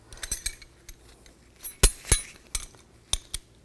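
Metal tools clink and tap against nuts while locking nuts on a 2007-16 Chevy Traverse rear catalytic converter are tightened with a 14 mm wrench; scattered sharp metallic ticks and knocks come in irregular bursts, close up, with no talk.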